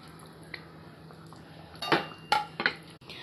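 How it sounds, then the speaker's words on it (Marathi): Prawns being added to a pulao pot bring a few sharp clanks and clinks of metal utensils against the pot, coming after a quiet stretch with a faint steady hum. "आता यामध्ये मी कोलंबी ॲड करणार आहे।"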